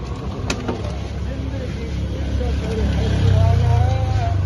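Car rolling into a dent-repair workshop, engine rumbling steadily nearby and growing louder as it comes closer, with people talking over it.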